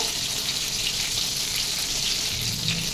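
Fish pieces for a raw-mango rohu curry fry in hot oil, a dense, continuous hiss and spatter that stays close and steady. No voices are heard.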